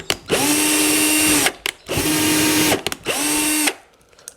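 A power drill enlarging a hole in a handmade bow runs in three loud bursts of about a second each, spinning up and winding down with brief pauses between them, close up and without talk.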